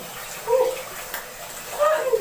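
Cold tap water runs into a basin during hand-washing of white laundry, making a close splashing gush that swells in two bursts, with light background voices.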